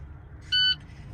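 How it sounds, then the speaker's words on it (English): Short electronic warning beep from a 2012 International truck idling during a CDL in-cab pretrip check, one clear tone sounding for about a fifth of a second over a steady low engine rumble. "you'll still hear the beeping and everything"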